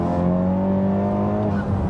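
A 420 BHP Honda FK8 Civic Type R hot hatch engine drones steadily while driving, a loud, constant tone from inside the car with no speech.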